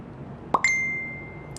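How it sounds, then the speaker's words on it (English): Facebook Messenger pop-ding notification: a single short soft pop followed immediately by a bright ringing ding that fades out over about a second, heard alone and close. "The pop ding."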